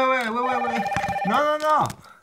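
Red telephone in a French reality-show parody, giving two loud, close electronic ring bursts with a held tone and a short pause between them.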